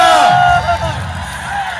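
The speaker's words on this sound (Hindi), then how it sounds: "जोरदार तालियां" A crowd at an Adivasi Day gathering in Dungarpur gives loud cheers and whoops, an excited swell of voices that starts loud and eases off within a couple of seconds.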